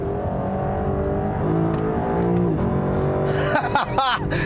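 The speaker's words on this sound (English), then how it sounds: "I cannot believe this is the stock exhaust for this car." A 2018 Lexus LC500 V8 engine with stock exhaust revs up and then drops off, its exhaust note rising and falling loudly up close, with a sharp burst of revving near the end.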